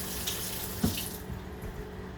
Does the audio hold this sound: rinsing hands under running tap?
yes